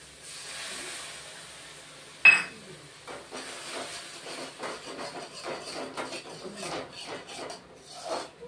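Chili paste hits a hot pan while cooking a pabda fish curry with potato and eggplant, starting with a sudden sharp burst of sizzling that settles into a steady crackling hiss.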